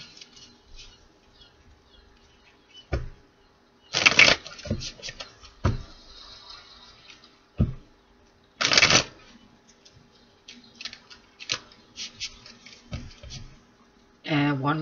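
Tarot cards are shuffled by hand in several separate bursts of quick riffling and flicking, with quiet gaps and soft handling sounds between them.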